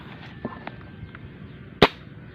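A homemade pistol-type gun fired in a test gives one loud, sharp crack that decays quickly over faint background noise.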